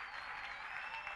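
Faint, continuous applause fills a church as the congregation claps together, a soft even wash of many hands heard from a distance.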